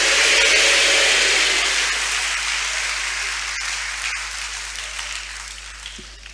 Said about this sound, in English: with a hand of applause, please join me in welcoming our distinguished host and lecturer, Dr. Maxwell Echampon.